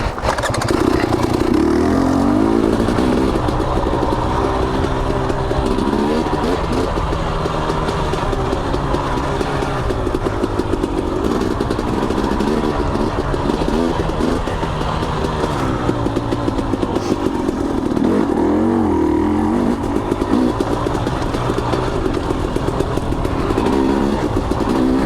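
A trail motorcycle revs and accelerates, its engine pitch climbing and dropping repeatedly as gears change, loud and close throughout with no talking.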